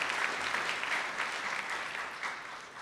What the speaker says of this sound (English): So can we give a round of applause for him?